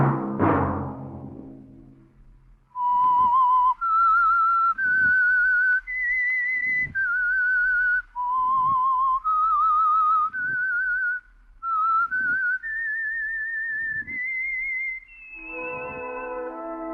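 A solo whistled melody, the theme of the radio mystery program The Whistler, clear and close, rising and falling through a sequence of sustained notes with a chord struck at the start and end.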